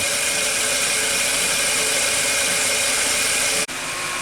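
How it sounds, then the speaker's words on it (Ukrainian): The radiator cooling fan of a VAZ 2115 runs with the hood open, giving a loud, steady whirring hum that briefly dips near the end, with no voices over it. "А, зараз включається вентилятор."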